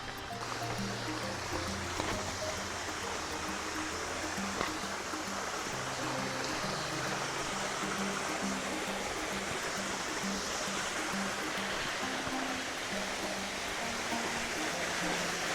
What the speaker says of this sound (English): you will walk past a small, what it appears to be a waterfall